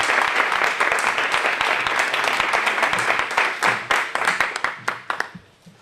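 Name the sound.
audience applause for the lecturer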